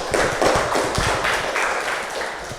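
Audience applause for a presenter in an Indonesian classroom session, a short burst of scattered, close hand claps that fades after a couple of seconds.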